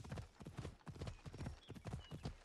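Horse hooves clip-clop steadily in Assassin's Creed Odyssey, a quick, close, continuous rhythm of hoof strikes with a faint whinny mixed in.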